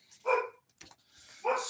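Dogs barking indoors at close range, two short bursts of sharp barks roughly a second apart, with no one talking over them.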